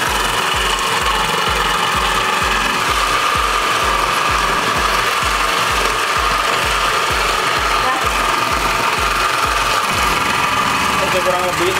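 An electric mixer runs continuously while beating cake batter, a steady loud motor whir with a fast rhythmic pulsing churn that stops near the end.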